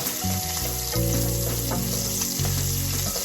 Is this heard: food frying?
yes